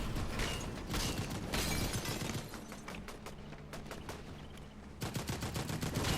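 Rapid bursts of gunfire crackle in the Fortnite video game, clustered volleys of sharp shots coming in waves with brief lulls between them.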